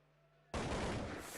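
Gunfire in Counter-Strike, a single sudden loud burst of shots that cuts in after a quiet moment and rings on briefly.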